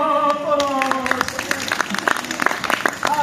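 Audience clapping after a group's singing performance, starting beneath a sung or called-out voice and then breaking into scattered, fairly close claps with sharp individual hits as the voice fades.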